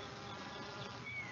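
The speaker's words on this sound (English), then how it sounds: "Bees are called social insects because they live and work together as a community." Honeybees buzzing around their hive, a soft, steady droning hum of many insects close by, continuous and without speech.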